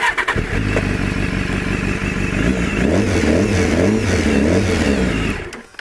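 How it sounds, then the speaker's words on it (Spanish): A BMW S1000RR motorcycle engine cranks and fires, then idles loud and close with a lumpy, pulsing rhythm and a few rising and falling revs before cutting off at the end. "Este es para encender la motocicleta."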